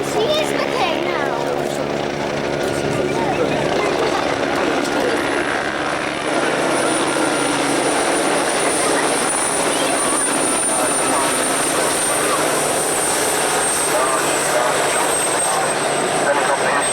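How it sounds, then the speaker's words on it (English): A big formation of helicopters makes a slow flyby at the Middle Wallop airshow, a loud continuous rotor and engine drone with steady blade throb throughout, while an announcer talks over it. "Salutes you on a slow flyby in big formation."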